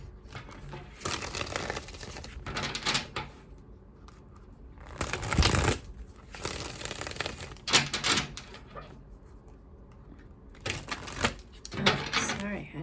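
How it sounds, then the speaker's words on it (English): A deck of tarot cards is shuffled by hand in repeated bursts of riffling and sliding, close up and crisp, with short quiet pauses between them. "I had to do a lot of shuffling"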